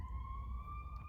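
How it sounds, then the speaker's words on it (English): An ambulance siren passes on the road outside, a steady wailing tone holding throughout over low traffic rumble, fairly close and continuous with no talking. "sorry, there's an ambulance"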